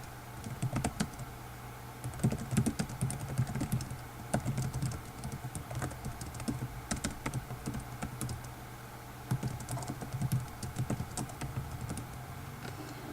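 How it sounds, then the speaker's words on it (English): Steady computer keyboard typing in irregular bursts of quick clicks, fairly close and moderately quiet, with short pauses between runs of keystrokes while text is entered into a table. "When you're done typing that information in"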